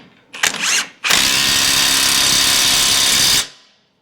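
A power tool drives a 17mm nut on a Toyota Hilux N70 front strut top mount: a short whir, a pause, then a loud sustained whine that runs for over two seconds before winding down.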